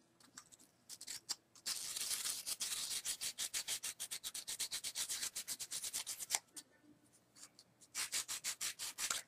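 Rhythmic sanding strokes rub across an embossed copper sheet, a steady run of quick scratchy passes with short pauses between bursts, close and fairly quiet with no talking.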